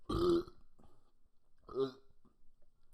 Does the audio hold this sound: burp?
yes